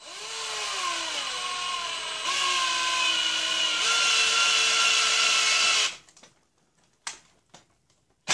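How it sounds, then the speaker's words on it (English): A power drill spins a length of threaded all-thread rod for a rock crawler build, a steady high whine that steps up in pitch a few times over several seconds, then cuts off leaving brief clicks and handling noises. "Let's put our all thread now into the drill here."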